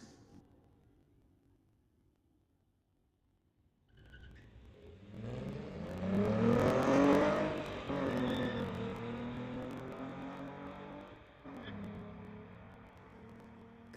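Engines of a 1984 VW Rabbit and a 2016 VW Golf rise from near quiet into a swelling drag-strip launch roar. The roar peaks and fades as the cars pull away, with a faint announcer voice underneath.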